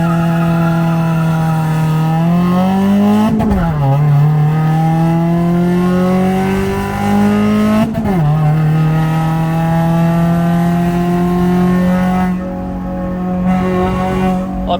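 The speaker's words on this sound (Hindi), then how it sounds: "चलो एक लॉन्च से हो जाए" Race car, Project FX, launching at a Race Wars drag racing event: a loud engine drone climbing in pitch, dropping sharply twice as gears change, with tire squeal.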